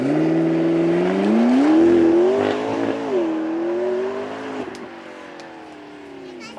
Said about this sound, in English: here we have a glorious 720S